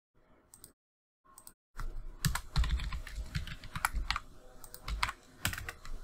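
Rapid computer keyboard typing while Python code is being commented out, a few quiet keystrokes first, then a short pause, then a steady dense run of clicks close to the mic with no voice.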